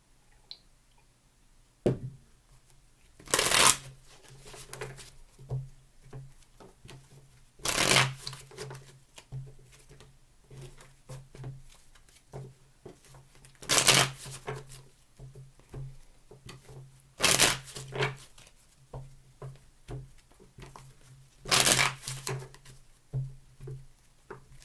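A deck of cards being shuffled repeatedly, five distinct riffling bursts spaced a few seconds apart, with soft handling sounds between them and no speech.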